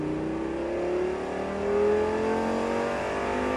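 A Lamborghini Gallardo's engine revs steadily higher as it accelerates on a race track, a loud rising whine of gears and exhaust at a distance, without voices.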